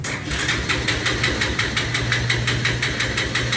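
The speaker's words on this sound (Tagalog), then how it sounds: "So sana wala na yung ingay sa makina." A TVS Rouser 180cc motorcycle engine idles steadily close by after repair, its rapid, even putter pulsing throughout with no talking.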